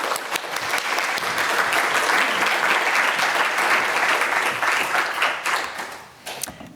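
An audience claps steadily and loudly to welcome the artist Andrea Fraser to the stage at an evening lecture, a dense sustained applause that fades out near the end.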